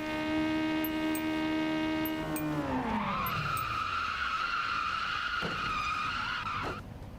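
A car in a racing video game brakes hard into a corner, its tires set at 25 PSI: a sustained engine tone drops in pitch as a loud tire skid rises and holds for several seconds, then cuts off, with no talk.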